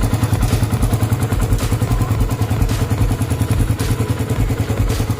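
A cold 2022 carbureted Suzuki Raider 150 engine idling loudly up close, its rapid steady mechanical ticking from the timing chain riding over a throbbing exhaust pulse, with occasional heavier clacks.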